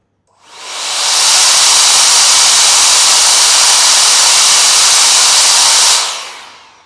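Adam's cordless mini air cannon car blower with a nozzle fitted runs as a loud, steady, hissing rush of air that starts up, holds evenly for about five seconds and then cuts off.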